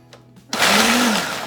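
A blender pulses jam ingredients, starting abruptly after a near-silent pause with a loud, whirring roar that holds steady for about a second with a rising and falling motor pitch, then eases slightly.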